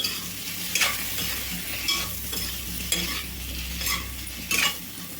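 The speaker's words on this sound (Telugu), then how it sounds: "పన్నీర్ ముక్కలు మొత్తం వేసేసిన తర్వాత ఒకసారి బాగా కలుపుకోవాలి" Paneer pieces are stirred and fried in a pan for paneer butter masala: a loud, close sizzle with rhythmic spatula scrapes about once a second.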